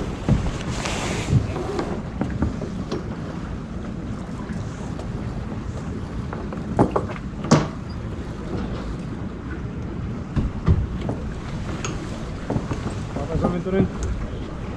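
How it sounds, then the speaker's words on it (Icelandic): Steady wind buffets a sailboat during a race at the Icelandic championship, a constant rushing roar with water and hull noise beneath, occasional knocks and brief voices from the crew. "Vindurinn."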